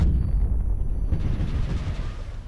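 Heavy cannon blasts from a vehicle battle in the Crossout video game, a dense, loud rumbling boom with sustained low-end roar and no speech.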